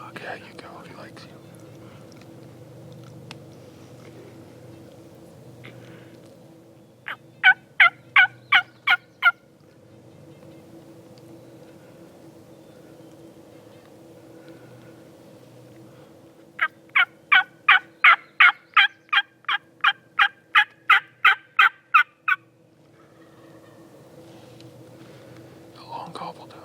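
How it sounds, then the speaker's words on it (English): Wild Merriam's turkeys gobble in bursts of rapid rattling calls at moderate distance on mountain public land, two clear gobble sequences separated by quiet, with soft whispered talk nearby. "A long gobble down."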